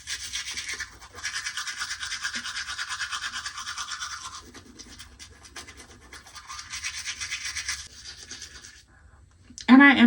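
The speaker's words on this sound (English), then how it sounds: "when you're brushing your teeth, brush your gums." Teeth being brushed around braces, a close scratchy bristle scrubbing that runs in steady bursts with short pauses, a brief louder knock near the end.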